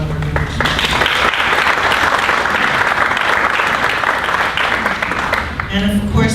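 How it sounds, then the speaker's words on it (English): Audience at a Kakaako Improvement Association general membership meeting claps for its board members, loud sustained applause filling the room, with brief talk at the start and end. "just a round of applause for all our board members."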